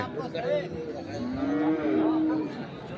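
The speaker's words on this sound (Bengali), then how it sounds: "গরুটা তো চমৎকার গরু" A cow at a busy cattle market gives a single drawn-out low moo that swells in the middle, heard over faint crowd chatter and background voices.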